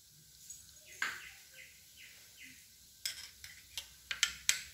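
Mustard seeds, cumin and fenugreek crackle in hot oil for a village-style dry fish curry: a soft, steady sizzle, then a burst of sharp, scattered pops growing quicker and louder toward the end. No one speaks.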